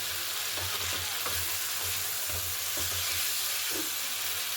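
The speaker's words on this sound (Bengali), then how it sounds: "এইভাবে ডিমের কারি করবেন খুব সুন্দর লাগবে ভালো করে কষে নিচ্ছি" Egg and cauliflower curry frying and being stirred in a pan, a constant loud hissing sizzle with faint, evenly spaced scraping strokes beneath it; no speech.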